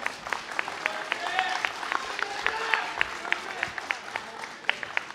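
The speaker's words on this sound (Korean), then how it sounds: "뜨거운 박수로 맞이해 주시기 바랍니다." An indoor audience at a Korean party's public candidate interview claps to welcome the preliminary candidates, with crisp individual hand claps scattered over a steady applause bed while a presenter speaks over it.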